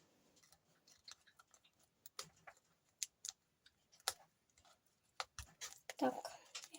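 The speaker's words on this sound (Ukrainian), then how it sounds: "беремо наші ножнички і ріжемо" Quiet snipping of scissors through a thin black plastic bag, a series of irregular crisp cuts with rustling, faint and close, ending in a louder crinkle.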